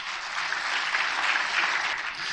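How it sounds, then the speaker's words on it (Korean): A lecture-hall audience at a talk on Korean War history claps together. The applause is moderate, dense and even, holding steady for a couple of seconds. "여러분 큰 박수 한번 해야 되지 않겠습니까?"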